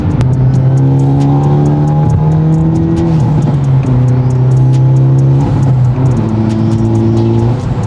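A 2023 Hyundai Elantra N engine roars loudly close up under full throttle in third gear, pitch climbing steadily through the revs with brief dips at each gear change.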